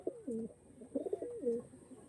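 Andhra Kalanka pigeon cooing close by: two or three soft, throaty coo phrases in quick succession, faint but clear against a quiet background.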